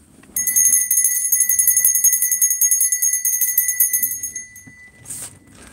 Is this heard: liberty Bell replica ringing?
yes